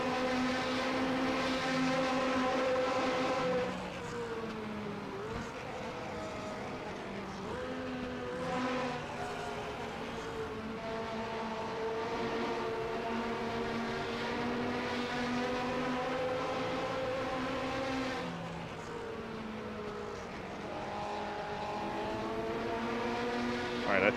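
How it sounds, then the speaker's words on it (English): Loud vintage race car without a muffler at 1960s Fuji in Assetto Corsa, a raw, buzzing engine roar that surges and dips through gear changes across a long stretch, dominating throughout. "I think somebody could have put a muffler on that one."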